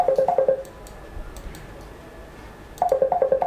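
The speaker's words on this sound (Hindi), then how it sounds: "1 सेकंड रुकिए जरा, एक अर्जेंट फोन आ रहा है" A phone rings for an incoming call during an online talk, sounding as two bursts of repeated electronic tones, one at the start and one near the end, with a quiet gap between them and no speech.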